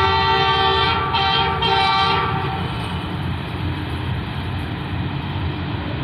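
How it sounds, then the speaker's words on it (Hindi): The Lasani Express train rolls loudly close by near Lahore station, a continuous heavy rumble with a horn sounding in the first couple of seconds before the steady rail clatter carries on. "सामने से लसानी एक्सप्रेस आ रही है"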